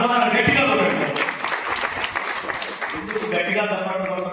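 An audience at a spiritual discourse in Karimnagar claps loudly, a dense burst of applause that swells and thins, with a voice speaking over the clapping.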